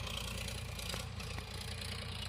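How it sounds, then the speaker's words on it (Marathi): A mini tractor fitted with a rotavator idles with a steady low engine rumble and light rattle, close and continuous, with no talk. "हे जे ट्रॅक्टर आहे का तुम्हाला दिसतंय फिरणी यंत्र जोडलंय ते आमचं बुटकं ट्रॅक्टर."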